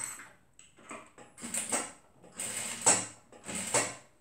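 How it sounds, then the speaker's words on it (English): Short bursts of a sewing machine's rapid mechanical stitching through fabric for a lined zipper purse, with backstitching, stopping and starting several times, close and fairly quiet. "So now let's go to the sewing machine and then sew it."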